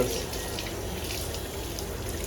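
A sensor faucet in an airport restroom runs with a steady, even rush of water that continues unbroken throughout, fairly close, with a voice faintly present in the background.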